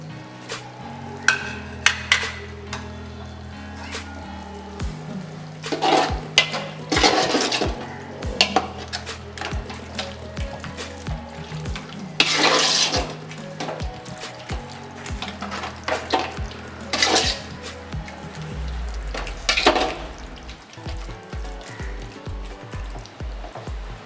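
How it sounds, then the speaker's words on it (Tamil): Masala for prawn biryani sautés in a pan with a sizzle under frequent metal spoon scrapes and clanks against the pan, ending in a fast rhythmic clatter. "மசாலாலாம் நல்லா வதங்கிடுச்சு"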